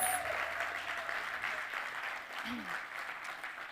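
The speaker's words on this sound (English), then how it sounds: "Another round of applause for our finalists," An audience at an awards ceremony applauds the finalists with a steady, moderately distant wash of clapping that holds for a few seconds, with a faint voice in the background.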